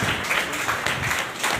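Applause from a crowd of cow devotees at a Janmashtami gathering honouring cow caretakers, a dense, steady patter of many hands close by with no talk over it.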